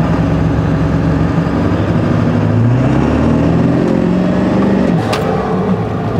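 A 7.3L Powerstroke diesel truck fitted with a 10-inch exhaust tip, heard from inside the cab with the windows up: a loud, continuous engine drone with a rising and falling rev and a faint turbo whistle.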